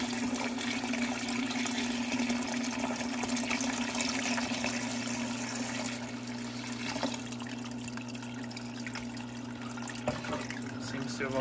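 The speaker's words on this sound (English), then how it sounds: "I went and collected some more water. Just gonna pour it in now." Water is poured into a vivarium built for red-eyed crocodile skinks, a steady trickling and splashing stream that runs continuously at low volume, with faint hum underneath and no voices.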